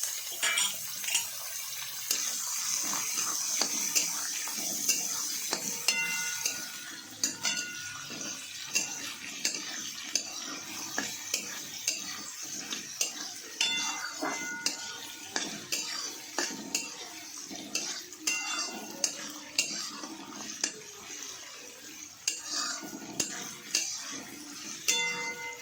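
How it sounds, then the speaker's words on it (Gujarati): Potatoes with green chilies and cumin frying in a pan while being stirred, heard as a steady hiss with repeated clinking scrapes of a utensil against the pan. "લીલા મરચાં થોડા શેકાઈ જાય એટલે એમાં આપણે બટાકા નાખી દેવાના।"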